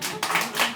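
Audience applause, a short burst of several brisk hand claps, fairly close and loud, over in under a second.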